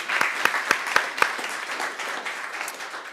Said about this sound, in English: maybe give them a round of applause for 5 years